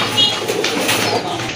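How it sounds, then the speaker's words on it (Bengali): Pigeons at a Bengali pigeon market coo softly and continuously through the short stretch, a low murmuring warble close by with faint rustling behind it and no talk. "আরও দুইটা কবুতর চলে আসছে দেখতে পাচ্ছেন।"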